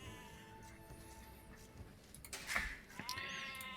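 Sheep bleats from a real-time strategy game, several short wavering calls in sequence over a faint background of game ticks and effects, with no voices.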